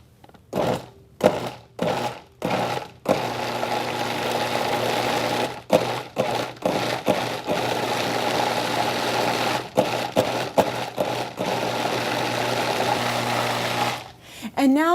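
Food processor pulses green onions into a dip mixture in repeated short bursts of motor whir, some clipped and some longer, fairly loud and close.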